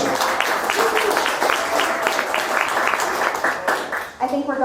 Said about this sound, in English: let's give a round of applause to Susan for being our host.